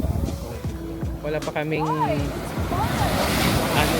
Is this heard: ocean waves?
yes